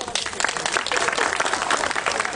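Crowd applause at an outdoor residents' protest rally in Przemyśl against an asphalt plant, dense sustained clapping from many hands lasting over two seconds.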